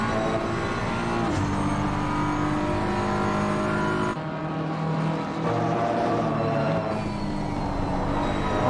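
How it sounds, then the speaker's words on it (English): An endurance race car at Silverstone, heard onboard in a sim racing game, holds a steady high engine drone, with the revs dropping and climbing again at gear changes and no voices. "Do you want to just listen to the revs and see where his gear changes are"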